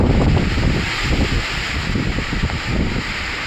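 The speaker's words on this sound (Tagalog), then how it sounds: "lakas pa rin ng hangin" Strong wind from Typhoon Uwan buffets a mangrove area near a fish cage. It is a loud, constant, rumbling roar with gusty surges and mic buffeting, and no one speaks.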